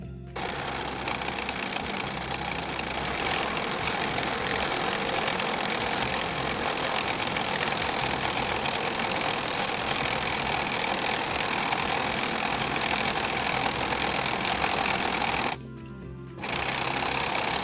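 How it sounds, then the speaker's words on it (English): A serger sewing machine runs continuously at a steady fast whir while finishing the waistband and hem of shorts, close and loud, stopping briefly near the end before starting again. "The last things we're going to do with the serger is the waistband and the bottom of the pants."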